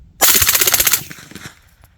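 An MP5 clone submachine gun fires a rapid, loud burst of about a dozen shots over roughly three quarters of a second, followed by fading echo and faint handling noise.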